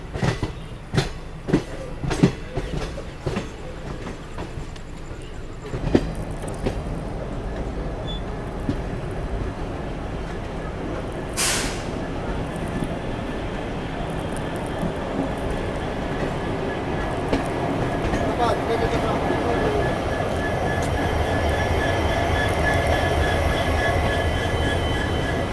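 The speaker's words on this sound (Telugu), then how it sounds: "ఇప్పుడు ఆ ట్రైన్ వెళ్ళింది కదా, అది హసన్ జంక్షన్ వైపు వెళ్ళే ట్రైన్." A passenger train bound for Hassan junction passes a station platform, opening with sharp wheel clacks over rail joints, then a long rolling rumble with a brief high wheel squeal, growing heavier toward the end.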